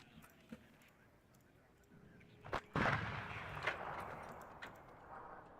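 Artillery fire in the military strategy game Warno, quiet scattered distant thuds with one heavy close boom near the middle followed by lighter rumbles, voices faintly in the background.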